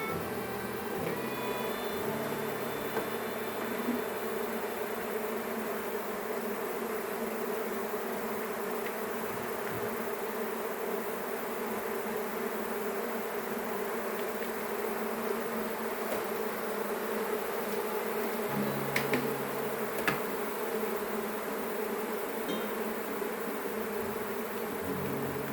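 Agitated honey bee swarm during Brisbane swarm season, a loud dense continuous buzzing drone that holds steady and close throughout with no voices.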